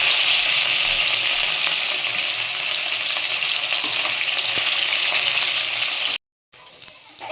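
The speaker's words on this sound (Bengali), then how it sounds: "মাছটা পুরো ভাজা হয়ে গেল" Large fish pieces frying in hot oil, a loud continuous hiss and crackle that cuts off abruptly near the end before a quieter sizzle resumes.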